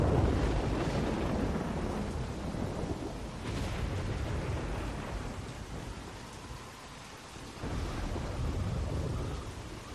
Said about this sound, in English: I love the rain and the thunder.